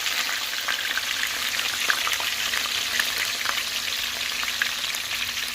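Onion fries in a pot of Nigerian red bean porridge, giving a close, steady crackling sizzle with fine pops scattered throughout and no pauses.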